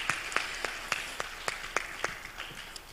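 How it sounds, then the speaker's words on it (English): Applause from an audience at an international publishers' congress, a moderate wash of many hands with a few sharper claps standing out, steady and fairly distant throughout. "Give her a round of applause"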